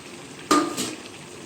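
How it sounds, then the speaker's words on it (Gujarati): Potatoes tumble into a frying pan with tomatoes for a spinach and potato curry, making a sudden close clatter and sizzle followed by a second short scrape of stirring. "તો ચાલો હવે આપણે બટેકા નાખશું અંદર"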